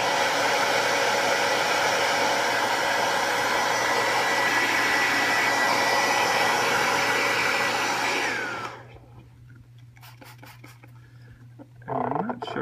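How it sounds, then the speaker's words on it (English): A heat gun blows a steady, loud whooshing roar with a low hum as it heats small decal creases on a motorcycle fairing, then switches off, leaving faint handling noises and a brief scrape. "Little small creases, heat them up with the gun"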